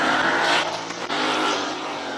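A race car launches hard from the start line at the Speed Classic hill climb in Cape Town, its engine screaming loud and close, briefly dipping as it shifts before roaring on.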